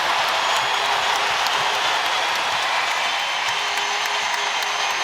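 A basketball arena crowd at a South Carolina Gamecocks vs. Auburn women's game roars and applauds in a dense, sustained wash of cheering and clapping that holds steady at full volume.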